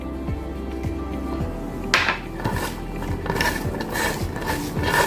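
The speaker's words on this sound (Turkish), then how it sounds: "Sumakla bunu bir güzel ovuyorum" Hands rub sumac into chopped onions, making soft rustling, scraping and squishing sounds close up, with light clinks against a dish and a faint steady hum beneath.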